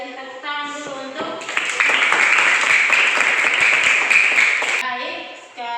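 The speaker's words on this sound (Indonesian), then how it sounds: "Kasih tepuk tangan dulu untuk." An audience of teachers at an Indonesian academic-supervision coaching workshop applauds a group's presentation. A dense, steady burst of clapping fills the middle few seconds, with a voice talking just before and after it.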